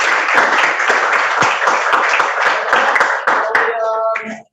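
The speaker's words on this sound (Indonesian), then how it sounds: "Tepuk tangan dulu." Classroom applause from a group of students, dense steady clapping that fills the space for several seconds before thinning out and stopping, with a few voices rising near the end.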